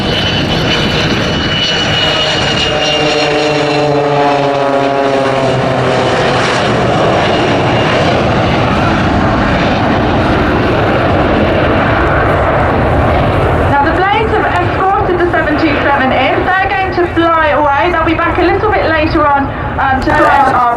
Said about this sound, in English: It's one of the last 727s produced by Boeing, and it was specifically manufactured for FedEx for its domestic cargo operations.